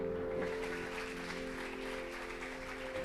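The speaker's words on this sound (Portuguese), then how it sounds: "Será que você pode aplaudir ao Senhor, igreja?" A church congregation at an evening worship service applauds. The clapping is steady and moderately loud over a sustained organ or keyboard chord that holds underneath.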